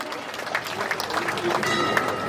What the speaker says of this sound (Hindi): तालियों में कमी न रखें, जोरदार तालियां बजाएं।